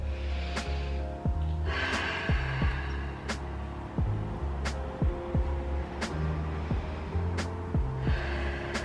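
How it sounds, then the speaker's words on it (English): Three slow, deep breaths during a gentle endometriosis exercise session, each a long rushing inhale and exhale heard close up, evenly spaced with faint low hum beneath and no speech. "take 3 deep breaths here"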